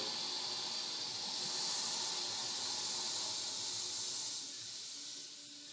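A 1.6-gallon-per-flush toilet tank refills after a flush, giving a steady, bright hiss of rushing water through the fill valve that holds level for several seconds and then starts to taper off, with nobody talking.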